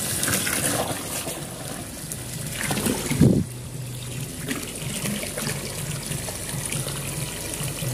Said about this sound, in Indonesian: tinggal kita isi air dan hidupkan pompanya dulu